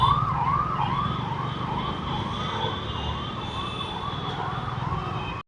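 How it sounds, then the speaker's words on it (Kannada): An ambulance siren wails in a steady, rising-and-falling cycle, loud and close throughout as it passes along the road, with traffic rumble underneath and no talking. "ಆಂಬುಲೆನ್ಸ್ ಬರ್ತೈತೆ, ನಡಿಯಪ್ಪ ಬೇಗ, ಮುಂದೆ ಜಾಗ ಐತಲ್ಲೋ."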